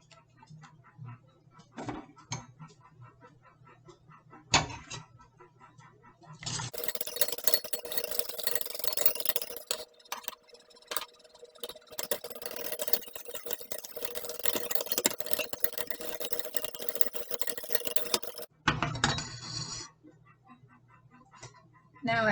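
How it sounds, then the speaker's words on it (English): White flour being whisked into ginger paste in a bowl, a dense broadband scraping and ticking whir that runs steadily for about twelve seconds between quieter stretches, close and fairly loud. "This is just plain old white flour. So I'm gonna whisk some in to"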